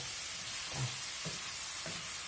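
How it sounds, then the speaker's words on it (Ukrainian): Onion stewing in a pot for a beef goulash gives off a soft, steady sizzle, with a few gentle stirring knocks rising briefly above the quiet hiss. "І так буде тушитись цибулька"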